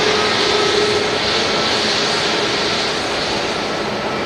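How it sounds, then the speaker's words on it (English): A loud, steady roar of an EasyJet jet airliner arriving at Manchester Airport from Thessaloniki fills the air continuously, a broad engine rush with no talk over it. "That EasyJet's in from Thessaloniki."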